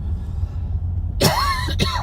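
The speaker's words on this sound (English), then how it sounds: "Bit of a cough there." A couple of sharp, close coughs in quick succession follow a quiet low background hum.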